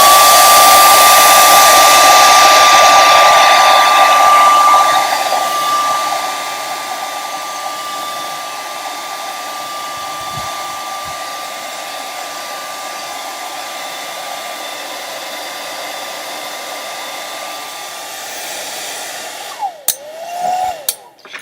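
Handheld hair dryer blowing on wet acrylic paint on canvas, a loud close whoosh that softens as it moves away, holds a steady whine, then clicks off with a few handling knocks.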